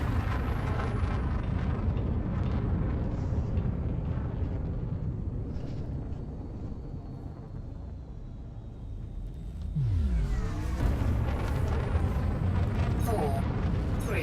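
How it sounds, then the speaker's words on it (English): A spaceship's frameshift drive charging in a video game: a loud, dense rumbling drone that dips slightly mid-way, then surges back with a rising whine and faint high tones layered on top. "Frameshift drive charging."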